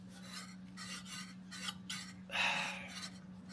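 Water pump with a flange on a Jaguar MKII, being fitted during reassembly, gives off a scraping, rasping rub in several short strokes, with a louder grinding burst near the end over a steady low hum, and no voices.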